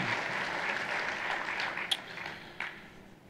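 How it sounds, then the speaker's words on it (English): Audience applause at an animal welfare forum during a quarter horse association convention, a steady wash of many hands clapping at moderate distance, fairly quiet, with a couple of sharper claps or knocks standing out near the end. "Let's give them another round of applause."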